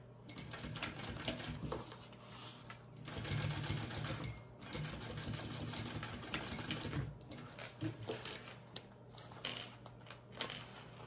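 Top stitching on a bag, the sewing machine whirring in close, uneven bursts with rhythmic needle clatter that speeds up and slows down throughout, fairly quiet.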